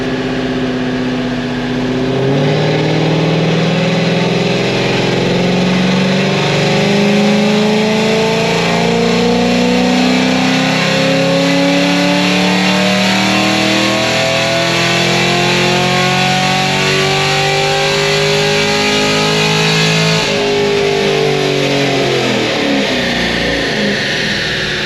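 A naturally aspirated LS7 V8 in a car on a dyno, revving hard at speed with climbing, rising harmonics that build steadily, then briefly drop and surge again near the end, loud and distorted throughout.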